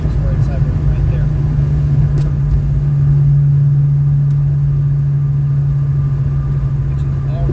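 A Ford Foxbody Mustang engine pulls under acceleration during a ride-along, heard from inside the car as a loud, steady mid-pitched drone with a strong humming tone that holds throughout.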